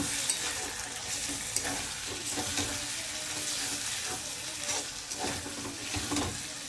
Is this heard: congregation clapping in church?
no